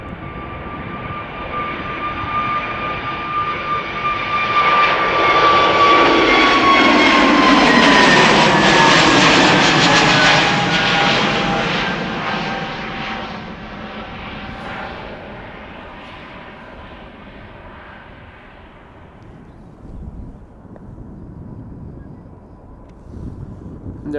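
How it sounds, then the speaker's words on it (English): An Atlas Air Boeing 747-8 freighter takes off from Amsterdam Schiphol, a whining, roaring jet that builds to a loud, near peak, then recedes into a long fading rumble with some wind buffeting. "There's the Atlas Air 7478 taking off from center, going to Seoul."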